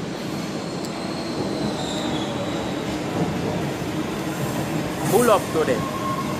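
Train rolling past in the dark, a steady rumble with brief wheel squeals and clatter near the end, while a person speaks briefly over it.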